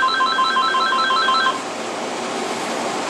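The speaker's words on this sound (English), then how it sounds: "I got the goddamn phone!" A telephone rings in a steady electronic trill that repeats for about a second and a half, then stops, leaving a flat room hiss behind it.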